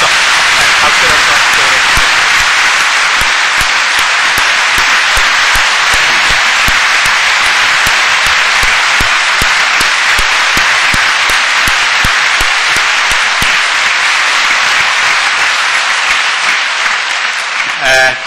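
Loud, sustained applause from a large church congregation at the close of a revival service, dense and continuous for the whole stretch before fading slightly at the end.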